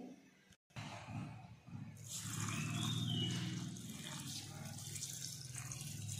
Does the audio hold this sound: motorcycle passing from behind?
no